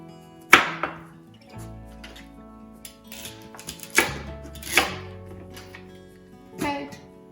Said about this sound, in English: Chop it up just coarse.